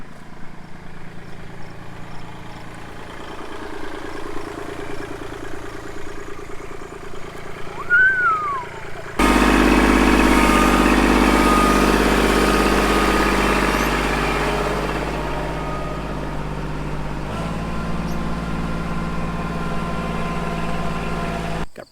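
A compact tractor engine runs steadily at low idle while hauling a heavy load of firewood rounds, then suddenly revs louder and heavier, its rumble and drone continuing to the end.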